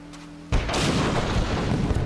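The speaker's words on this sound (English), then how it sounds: "Explosions." A sudden loud boom erupts after a moment of quiet, followed by a sustained crackling roar of explosions and blasts in the video game Spec Ops: The Line.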